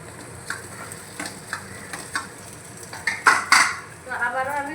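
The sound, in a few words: fried potatoes added to sizzling masala in pan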